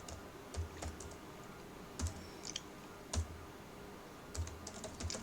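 Sparse, quiet keystrokes on a computer keyboard as an SQL query is typed, arriving in small clusters of clicks separated by pauses against a soft background hiss.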